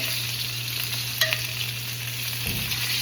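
Chicken wings sizzle steadily in a hot frying pan as they are flipped over, with a brief clatter of the turning around the middle and a low steady hum underneath.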